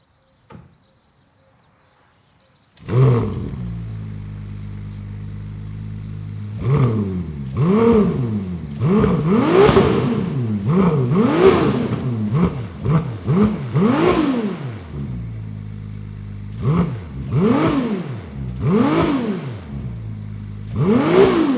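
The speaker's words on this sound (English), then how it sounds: "Let's have a listen to the exhaust note of the V6 before going for a spin." A Ferrari 296 GTS V6 engine revs repeatedly after a quiet start, the exhaust note rising and falling in sharp bursts, loud and close, with no talk.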